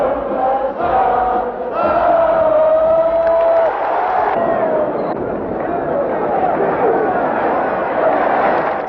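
Large crowd at a Campo Pequeno bullring political rally in Portugal, a loud continuous roar of cheering, shouting and jeering voices, with whistles and sustained crowd noise throughout.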